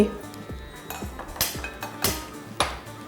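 Metal kitchen vessels clink and clatter as a wide pot is set down for double-boiling colostrum milk cheese (junnu), with several sharp knocks and rings spread over a few seconds, close and fairly quiet.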